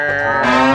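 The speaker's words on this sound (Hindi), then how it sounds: "वो असल में एक अद्भुत, अलौकिक, चमत्कारी, इच्छाधारी भैंसा है" A male buffalo gives one loud, close, sustained moo, deep and droning and rising slightly in strength toward the end, with no other sound around it.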